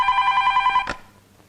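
A telephone rings with a steady electronic tone as a call is placed to a defence secretary in an action film scene. The ring lasts under a second, ends in a short burst, then quiet follows.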